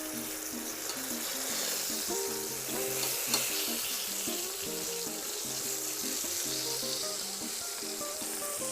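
Zucchini slices frying in a pan, a steady close sizzle with broadband hiss running throughout, joined by faint music and occasional small clinks.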